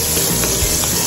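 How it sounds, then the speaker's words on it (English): Chopped onion sautéing in a pan at the start of a tuna carbonara: a steady close sizzle and hiss with faint stirring, no talking. "this is the technique of sauteing"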